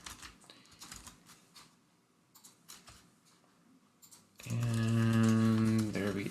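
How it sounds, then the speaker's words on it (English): Computer keyboard typing in short irregular bursts of clicks, close and moderately quiet, followed by a loud sustained tonal drone that covers the last two seconds. "I'm starting to get used to typing these out"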